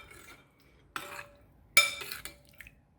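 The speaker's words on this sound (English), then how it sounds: "probably 2 tablespoons of olive oil. Let's go ahead and stir up." A spoon clinks and scrapes against a bowl as olive oil and pickling ingredients for spicy Mexican-style pickled carrots are stirred, with a few separate bursts of clattering and quiet gaps between them.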